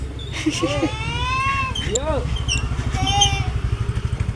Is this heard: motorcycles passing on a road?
yes